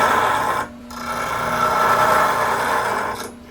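A slow speed Rikon bench grinder sharpening a woodturning tool, a continuous close-up grinding rasp broken by a brief pause, then steady again before easing off.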